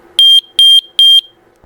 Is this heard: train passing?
no